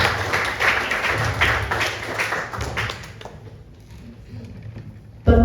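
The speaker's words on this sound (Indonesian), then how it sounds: "mari kita berikan tepuk tangan dulu supaya nggak tegang" Students at a provincial museum quiz competition clap together in a brief burst of applause that fades out after about three seconds, followed by a sharp thump at the end.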